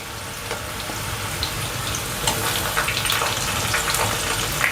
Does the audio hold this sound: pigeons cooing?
no